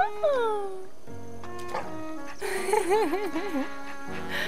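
A small dog in The Legend of Zelda: Breath of the Wild whimpers and yips in high, sliding whines, with game music and a voice talking alongside.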